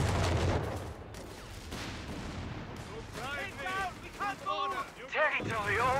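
Enemy machine gun fire in Company of Heroes 3 rattles in loud rapid bursts amid booming battlefield explosions, with soldiers shouting over the chaos.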